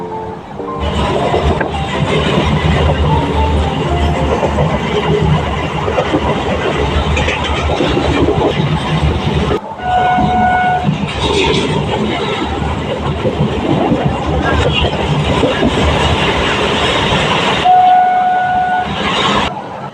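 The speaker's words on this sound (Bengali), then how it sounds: "আর এদিকে দেখো ছুটছে এখন ট্রেন" A train runs along rails with a loud, continuous rumble and rattle heard from close by, briefly interrupted and then joined by two short whistle tones partway through.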